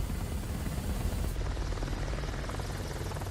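Helicopter in Microsoft Flight Simulator 2024, a steady loud rotor and engine drone with a low rhythmic thump, running continuously and close with no talk over it.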